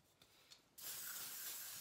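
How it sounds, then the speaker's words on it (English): A couple of faint taps, then a sudden continuous hiss of hairspray from an aerosol can, close and steady until the end. "Big spray."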